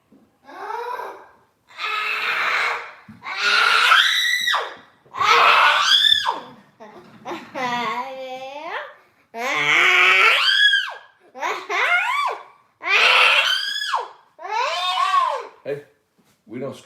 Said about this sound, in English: we don't scream like a lunatic around here